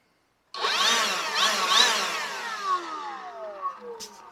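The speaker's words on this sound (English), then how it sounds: "we decided to give the old 20 volt Dewalt blower a test run" A DeWalt 20-volt cordless blower starts up and runs loud and steady, close by, with its motor whine shifting in pitch as it revs and settles.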